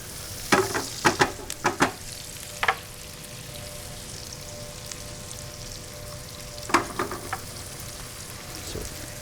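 Cremini mushrooms frying in oil in a pan, with a steady low sizzle broken by several sharp crackling bursts early on and again later, loud and close, with no talking.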